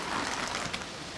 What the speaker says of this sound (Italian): e invece questa è grandine